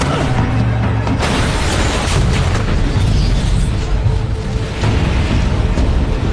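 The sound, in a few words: movie explosion of a tanker truck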